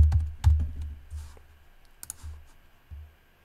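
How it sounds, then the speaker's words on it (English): A few soft key clicks tap on a computer keyboard while typing a word into design software, close and sparse, with low thumps and quiet gaps between the keystrokes. "I'm gonna type the word mountain bike"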